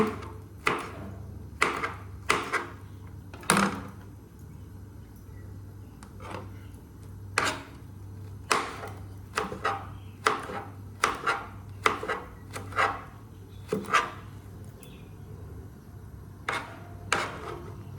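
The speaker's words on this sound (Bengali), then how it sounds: "ভালো করে ধুয়ে নিয়েছি ধুয়ে এখন কুচিয়ে নেব" A knife chops washed fish on a cutting board in irregular sharp thuds, sometimes single and sometimes in quick pairs, with quiet pauses between and a faint steady hum underneath.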